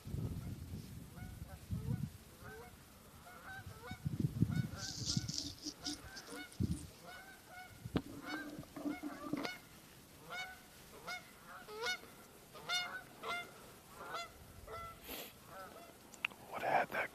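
Geese honk repeatedly at a distance across an open field during a November deer hunt, the calls coming in a steady series of faint, evenly spaced honks with occasional rustling nearby.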